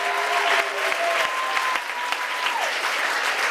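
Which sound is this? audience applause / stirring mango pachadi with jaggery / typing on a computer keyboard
audience applause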